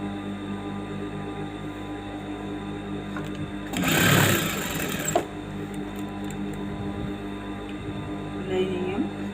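A sewing machine stitches saree blouse lining at the neckline in steady runs, with a louder burst of whirring partway through, heard close under a faint background hum.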